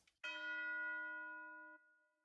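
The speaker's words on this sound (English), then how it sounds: "you'll hear that this section is marked by a bell hit down here" A single low bell strike rings out in the Firelink Shrine music from Dark Souls, a clear tonal hit that sustains with a long, slowly fading resonance and stops abruptly near the end.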